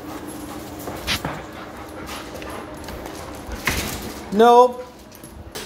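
A dog wearing a remote training collar pants softly indoors, then lets out one brief, rising, high whimper near the end. A person speaks a single short word.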